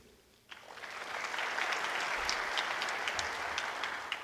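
Applause starts abruptly and holds steady as a dense patter of clapping from a sizable audience, filling the room.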